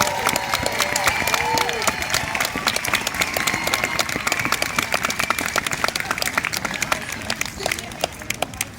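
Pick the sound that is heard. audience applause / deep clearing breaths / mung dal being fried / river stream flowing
audience applause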